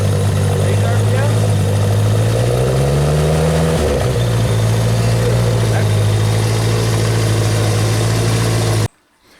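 The engine of a Genie boom lift climbs gradually in pitch as its RPM is raised, then drops back sharply and holds a loud, steady, close drone before cutting off abruptly.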